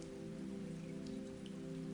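Rain falls in a steady, dense patter, soft and unbroken, with a few faint drops standing out and no voices.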